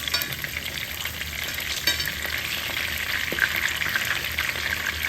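Food sizzles and fries steadily in a hot HexClad pan, a dense continuous crackle with occasional pops, close and moderately quiet, with no talking.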